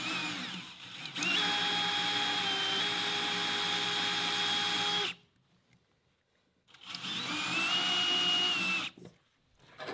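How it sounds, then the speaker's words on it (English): A power drill strains to bore into a hardened broken bolt, whining steadily in two long bursts separated by a few seconds of near silence, the motor pitch wavering slightly as it labors. "I think the bolt's harder than my drill bit, but I'm still not getting in a hurry."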